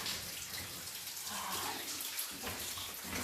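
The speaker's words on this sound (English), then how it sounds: "I love when it drips like that." Water dripping and splashing inside an old Welsh lead mine, a dense continuous patter and trickle that sounds close and steady throughout.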